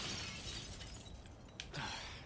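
A smash in Resident Evil 4 (2023), played in VR on PSVR2, comes as a brief sharp shattering crack over dense game background sound, with a second break near the end.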